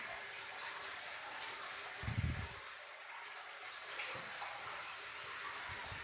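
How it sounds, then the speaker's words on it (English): Water trickles and splashes faintly inside an abandoned centrifugal pump at a disused coal prep plant, a quiet steady wash with one brief louder gush partway through. "There's water running still. This is a centrifugal pump."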